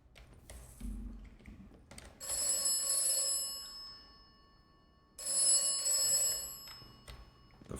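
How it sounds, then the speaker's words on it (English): An old telephone in the video game Atomfall rings in two long bursts of bright metallic bell tones separated by a pause, preceded by faint clunks and a low thump. "The phone."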